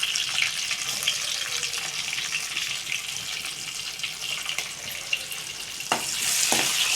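Onions with asafoetida frying in a pan, a continuous bright sizzle close up with faint stirring clicks and a few sharper scrapes near the end.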